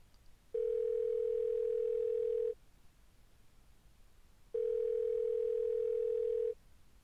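Phone dial tone from the video game DDLC This Bond We Share: two steady, evenly spaced electronic tones, each about two seconds long, separated by a short quiet gap.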